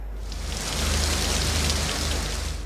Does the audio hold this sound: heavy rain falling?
yes